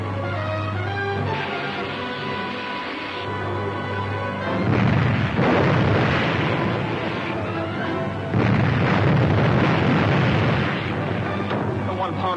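A naval deck gun on a ship at sea fires in heavy, booming blasts, two big roaring bursts over a constant engine-like drone, with dramatic background music running throughout.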